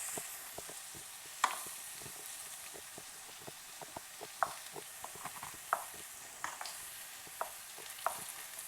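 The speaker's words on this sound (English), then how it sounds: "And we're gonna mix that a bit until it's well incorporated." Parsley flakes being stirred into mashed potatoes for a shepherd's pie, heard as soft irregular scrapes and taps of a utensil against the bowl over a quiet background.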